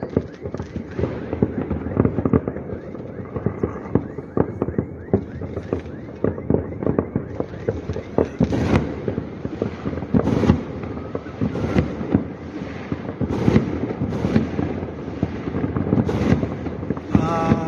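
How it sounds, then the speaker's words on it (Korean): Rapid, dense bursts of New Year fireworks over Bishkek crackle and bang continuously, with sharp louder pops standing out over a constant roar of distant explosions. "이거 전쟁 난 거 아닙니다. 폭죽입니다. 폭죽."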